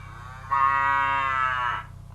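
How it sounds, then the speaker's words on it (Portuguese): A single long, deep bovine moo from a bull or cow, rising and holding for over a second before fading, clear and isolated against a faint low hum. "como, por exemplo, o mugido do boi"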